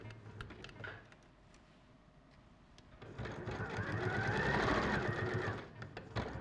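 A sewing machine runs a straight stitch with a short reverse, quiet and intermittent at first, then a longer steady whirring run that swells and fades, heard close with no talk.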